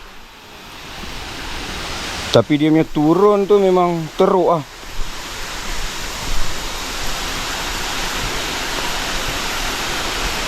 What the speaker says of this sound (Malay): Ni air terjun Alor Naga.